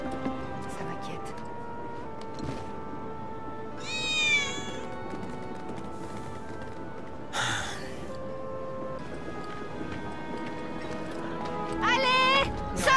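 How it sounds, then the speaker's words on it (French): A cat in Final Fantasy VII Remake meows twice in short, rising cries, once early and once near the end, over a continuous musical and ambient background with a brief whoosh between. "c'était pas un miaulement de chat à l'instant? Il doit pas être loin."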